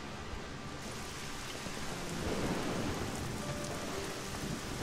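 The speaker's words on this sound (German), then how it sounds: "wie das hier regnet. Und gewittert." Steady rain and a thunderstorm in the game Risen, a dense hiss that holds throughout, with a low rumble of thunder swelling near the middle.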